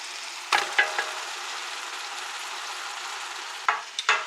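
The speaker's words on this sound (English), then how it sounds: "So we are cooking down all of our meat. That's all the ground beef, the chorizo, and the sausage." Ground beef, chorizo and sausage frying in a pot, a soft continuous sizzle broken by a few sharp scrapes and stirs of a utensil near the start and end.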